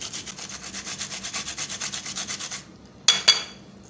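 An onion is grated into paste with quick, even rasping strokes on the fine side of a metal grater, then the strokes stop and a couple of sharp clicks follow.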